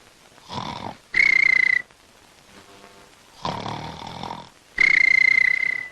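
A person snoring close by: four loud rasping breaths, two of them carrying a sharp whistling tone, separated by brief near-silent gaps, with no talking.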